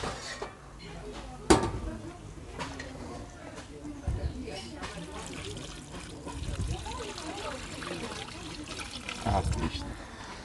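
Water is poured into a kazan while a budget meat stew cooks, a soft trickle with a few clinks of pots and utensils, close by, under people talking.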